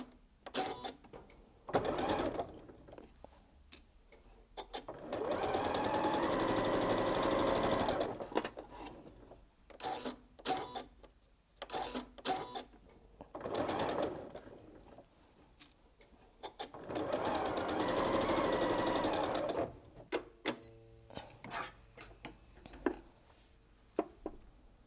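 Domestic sewing machine chain piecing scrap quilt pieces, stitching one patch after another without cutting the thread: several sustained whirring runs of stitching separated by short pauses, clicks and handling noises, close and fairly loud.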